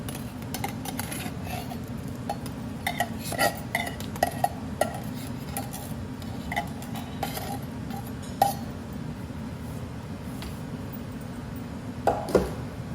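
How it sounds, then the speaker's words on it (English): Beans from a can go into a cooking pot of beans and escarole, with scattered metallic clinks and taps of can and spoon against the pot over a low steady background hum, close by and with no talking. "I'm gonna go ahead and add this second can of beans just to make it a little heartier."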